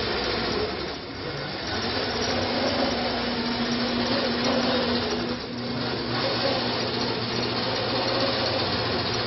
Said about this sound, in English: I will show you it is quilting by itself